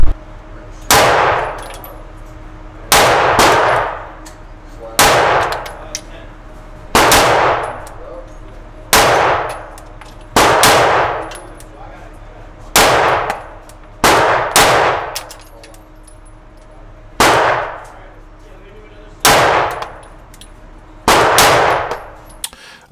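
Shots from a Sig P320 Spectre Comp pistol each land with a ringing clang on a steel target at an outdoor range, about twelve loud evenly spaced hits over a full magazine, each sharp report trailing a short metallic ring.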